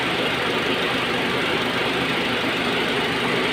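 A Honda Jazz engine idles during a misfire check, a loud, steady, unbroken mechanical hum with no stumbles or gaps.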